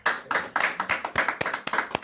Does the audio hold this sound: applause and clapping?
yes